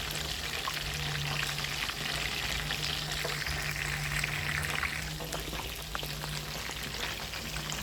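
Chicken pieces fry in a pan, giving a steady, fairly quiet sizzle and crackle that holds evenly throughout with a faint low hum underneath.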